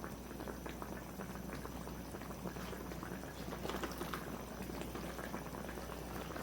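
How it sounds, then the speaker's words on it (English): A pot of coconut dumplings and fish boils steadily, with a soft, continuous bubbling and crackle that stays faint and even throughout, with no voices. "So now I'm going to leave this to boil."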